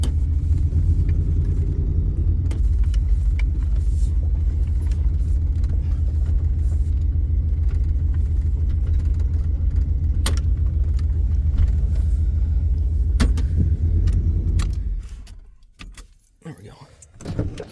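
A 1979 Chevy square body truck being driven and moved out from under a tree, a continuous deep engine rumble for about fifteen seconds before it cuts off, then faint shuffling. Voices can be heard in the background.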